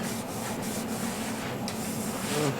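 Wax is rubbed by hand against a wooden workpiece on a lathe, a soft, close, continuous scuffing and rubbing with faint rhythmic friction, quiet and without talk.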